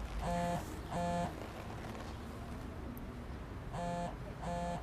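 A mobile phone's electronic ringtone plays in two short bursts, pauses, then repeats two more bursts, fairly loud against a quiet room.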